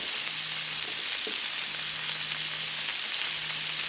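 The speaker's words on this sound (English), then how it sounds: "So the shrimp is cooking down really well." Shrimp sizzle steadily in a stir fry pan for a shrimp and snow pea dish, a close, continuous hiss of frying with faint crackles and no talking.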